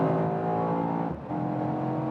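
A 2022 Mercedes E63 S AMG facelift accelerating hard on the road at around 200 km/h, its engine giving a loud, sustained, tonal roar that dips briefly just past the midpoint before surging again.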